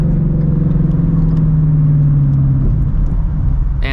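A 2016 Shelby GT350 with a T56 manual gearbox rumbles loudly from inside the cabin, a deep steady engine drone that sags and shifts as it is downshifted.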